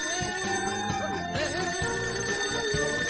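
A cartoon telephone rings in Doraemon, a bright electronic ringtone repeating in short regular bursts over a busy background of cartoon music, fairly loud and close.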